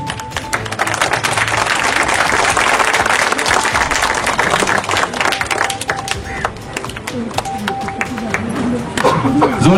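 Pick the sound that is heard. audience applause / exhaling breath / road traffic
audience applause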